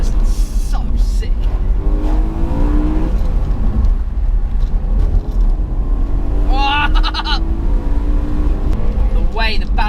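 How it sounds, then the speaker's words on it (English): BMW M3 E92 with DCT gearbox and automatic rev matching, engine droning steadily under near-continuous talk, with brief sharp rev blips around the downshifts. "The downshift noise is one of my absolute favourite parts. Also, the car rev matches for you"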